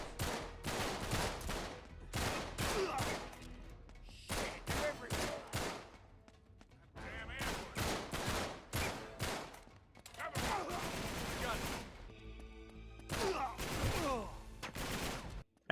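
Gunfire rattles through a firefight in the video game Uncharted 3 Drake's Deception, with repeated bursts of rapid shots separated by short gaps, loud and continuous over game ambience.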